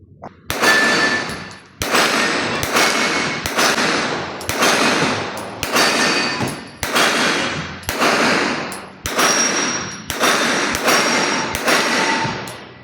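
CZ Scorpion EVO 3 with a red dot fired at steel targets on a range, about ten loud shots in a steady paced string, each with a ringing metallic clang from the plates, no talking.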